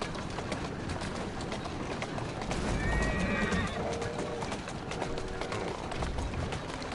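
A horse-drawn carriage in the Assassin's Creed Syndicate video game rolls along with steady clip-clopping hooves and rumbling wheels, and a horse whinnies partway through, all under a dense, constant street ambience.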